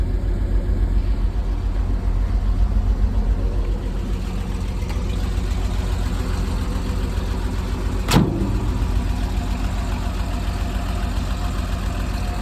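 A 1950 Chevy 6100 truck engine idles nearby with a steady, low, rhythmic chug that holds constant throughout, with one brief sharp click partway through and no talking.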